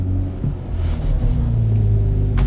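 A BMW M340i Touring, a high-performance M model, rumbles with a deep, steady engine note close by, with a low drone running throughout and no voices.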